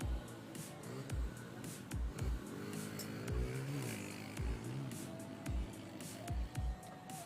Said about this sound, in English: We have 5 riders right here using the CRF 125.